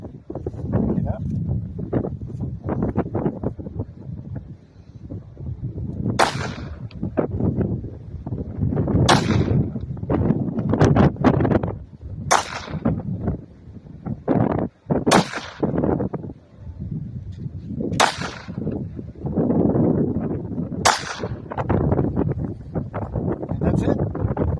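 Sharp, loud pistol shots from a Walther PPK chambered in .380, fired outdoors roughly every three seconds over heavy wind buffeting the microphone, with a voice talking in the gaps.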